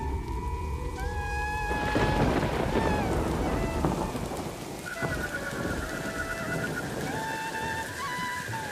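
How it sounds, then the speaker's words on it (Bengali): Heavy rain pours down steadily in the background of an animated horror cartoon scene, mixed with music tones and a low rumble, with no speech over it. "বিকেল হতে না হতে শুরু হলো আকাশ ভাঙা বৃষ্টি।"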